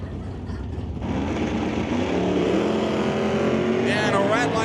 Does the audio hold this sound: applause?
no